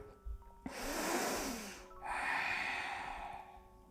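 Two long, deep breaths during a yoga session, a loud airy inhale followed by a slower whooshing exhale, close and alone with no talking.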